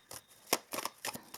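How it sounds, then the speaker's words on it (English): Someone shuffles a deck of Moon Magic oracle cards by hand, making a few soft, brief riffling bursts separated by short pauses. The sound is close and quiet, with no talking. "So I will just quickly shuffle a little bit and we will draw a card"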